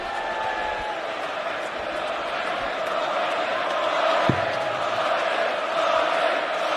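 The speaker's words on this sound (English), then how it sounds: "Crowd in boisterous form in the closing stages of this match." Boisterous darts crowd in the closing stages of the 2017 UK Open final between Gerwyn Price and Peter Wright, a steady roaring hum of chanting and shouting fans with one sharp thud partway through.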